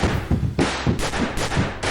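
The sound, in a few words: gunfire sound effect, shots fired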